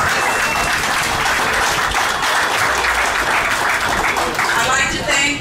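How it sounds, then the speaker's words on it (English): An audience at a fishing tournament event claps steadily and loudly for about five seconds, a dense continuous round of applause that eases slightly near the end. "Please give them a round of applause."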